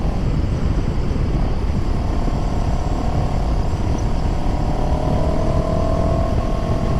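A CF Moto 700 CLX motorcycle engine runs steadily on the road, with a loud continuous drone buried in heavy wind rush and a slight rising pitch toward the end.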